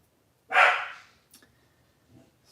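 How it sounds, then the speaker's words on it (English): A single close, loud bark from a female dog indoors, followed by a couple of faint small sounds and near silence. "My dog is deciding to let the whole neighborhood know that she exists."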